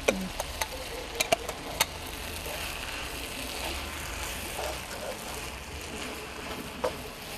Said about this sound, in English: You make sure you mix it very thoroughly